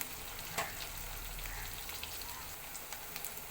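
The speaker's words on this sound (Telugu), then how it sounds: "ఇవన్నీ ఫ్రై చేసుకోవాలండి ఇవి బాగా మగ్గనిద్దామండి" Vegetables frying in a pan for brinjal and chana dal curry, a soft steady sizzle with a few light stirring clicks, faint and close, with no talk.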